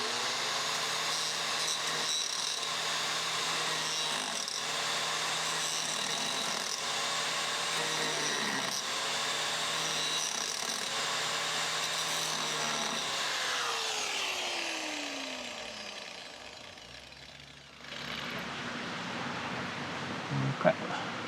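Power grinder working steel during a steel sailboat restoration, installing through-hulls in Wrangell, Alaska: a loud continuous whine that rises and falls with load for most of the stretch, then winds down near the end.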